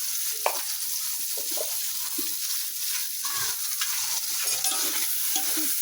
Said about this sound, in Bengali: পেঁয়াজ বাটা রসুন বাটাটা একটু ভালো করে কষাবো